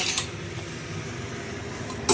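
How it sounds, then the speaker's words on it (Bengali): A stack of used dishes and utensils waiting to be washed gives a couple of brief, light clinks at the start and end. A steady low room hum fills the gap between them. "বাসনগুলো মেজে ফেলবো, কী করবো।"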